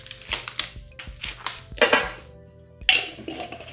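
Beef short rib adobo ingredients being mixed in a bowl, with irregular wet squelches and utensil scrapes against the dish in close, uneven bursts.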